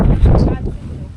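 Strong outdoor wind gusts buffet the microphone in a loud, low, rumbling roar that stays heavy for about a second before easing slightly.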